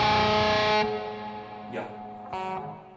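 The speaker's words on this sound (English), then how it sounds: "specific black metal guitar tone, like this tone." Heavily distorted black metal electric guitar plays a loud sustained chord for under a second, then decays and is struck again in two shorter bursts.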